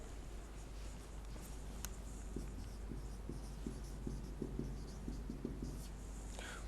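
Chalk or marker writing on a board during a chemistry lecture, quiet irregular scratches and short strokes tapping in clusters against a faint steady room hum, with no one speaking.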